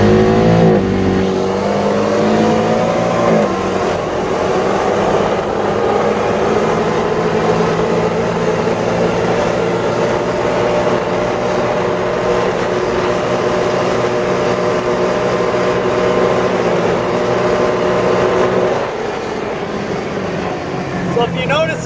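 Steady engine drone of a 2020 Honda Pioneer 500 UTV cruising at about 40 mph on a straightaway, holding a constant pitch with a slight rise early on, loud and close throughout.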